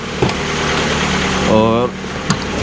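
A car engine idles with a steady low rumble, close and continuous, while a voice talks over it and a couple of soft knocks are heard.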